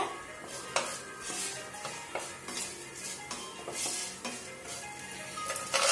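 Turmeric powder is stirred into a sizzling mixture of curry leaves in a pan, with a spoon scraping and tapping against the metal in repeated strokes over a soft, steady frying hiss, heard close with no talking.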